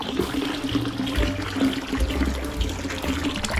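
A half-horsepower Pedrollini water pump pours a strong, steady gush of water into a tub, a continuous close rushing splash with no talk.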